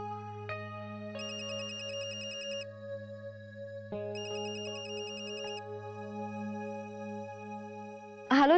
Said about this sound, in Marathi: करू का चित्राला फोन?